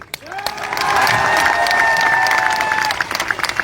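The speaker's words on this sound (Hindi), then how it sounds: "ताली बजाओ ढंग से" A crowd applauds loudly and steadily for a few seconds, with some whistling and scattered cheers mixed into the clapping.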